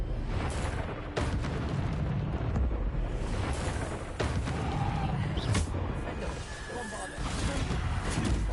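A Bombarda explosion spell booms loud and close, its rumbling blast filling the whole stretch with dense, continuous crackle and roar, speech mixed in underneath.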